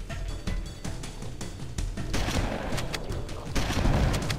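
Combat gunfire in the PC shooter Halo: rapid, loud overlapping shots and booming blasts in a thick, sustained din that grows heavier toward the end, with no talk.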